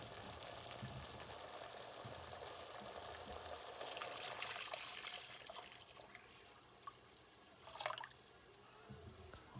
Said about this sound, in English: At this point, I'm gonna add about 3 cups of water.